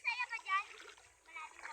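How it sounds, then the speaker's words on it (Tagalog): Children splashing in cold, clear lake water with a sandy bottom, light bursts of splashing mixed with excited kids' voices close by. "Hindi nakatiis, naglublob sa tubig."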